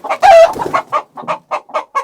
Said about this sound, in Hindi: एंड यहाँ पे कुछ मुर्गे हैं और ये अंदर ही बैठे हुए हैं।